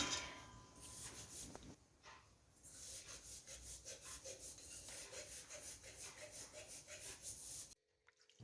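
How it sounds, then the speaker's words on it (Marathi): Metal pots and vessels from a home shrine are scrubbed by hand, producing rhythmic close rubbing strokes, irregular at first, then a steady back-and-forth scouring run that stops abruptly near the end. "तर छान मी चोळून घासते हे सगळे हांडे"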